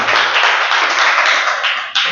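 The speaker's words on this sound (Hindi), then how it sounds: "जोरदार ताली रामदयाल के लिए" A room full of people at a course batch completion gives loud, close applause for a certificate recipient, a dense, steady wash of clapping that ends abruptly.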